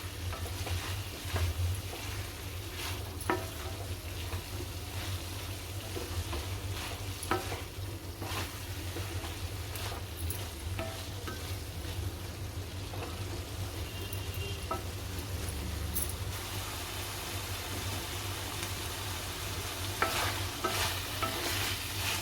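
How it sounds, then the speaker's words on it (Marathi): Cauliflower and peas cooking in gravy in a pan, a faint, steady simmering sizzle with repeated scraping and stirring clicks from a spoon. "ग्रेव्हीमध्ये चांगलं शिजवून घ्यायचं आहे आपल्याला"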